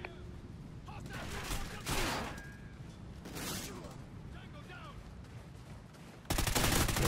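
Honey Badger assault rifle bursts in a Call of Duty team deathmatch, with sharp gunfire volleys rising over a steady game din and a loud sustained stretch of shooting near the end.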